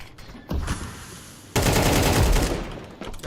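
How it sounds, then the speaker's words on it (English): Gunfire crackles in a shooter video game, a short burst followed by a sustained, loud fusillade of rapid shots that tails off near the end. "He shoots me through 2 metal boxes"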